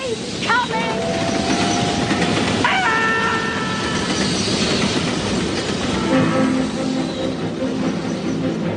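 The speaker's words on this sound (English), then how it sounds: "Listen, there's another train coming." A train approaches and rolls past loudly with a steady rumble, rhythmic wheel clatter and brief horn-like tones, while voices are heard over it.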